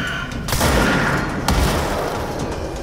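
Two heavy shotgun blasts in the video game Control about a second apart, loud and booming, each followed by a rumbling decay over continuous background noise.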